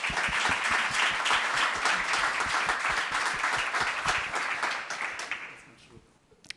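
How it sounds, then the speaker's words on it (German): A crowd at a sponsored panel talk in Stuttgart welcomes a hip-hop artist with dense, loud, continuous applause that holds steady, then thins out and fades to near quiet. "Deshalb bitte einmal Applaus für Max Herre."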